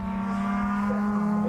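Ford Fiesta junior race cars on a circuit during qualifying, a sustained steady engine drone of cars approaching and passing at a moderate distance.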